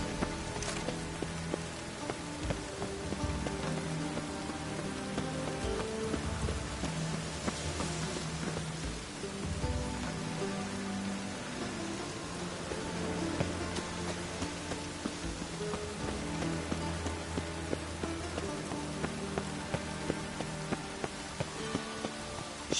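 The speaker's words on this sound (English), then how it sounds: "light rain" Light rain falls in The Witcher 3: Wild Hunt, a steady, even patter that runs the whole time beneath sustained game music, with no voices.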